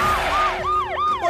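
A cartoon police car siren wails in a loud, rapid up-and-down pattern, close and continuous with no talk over it.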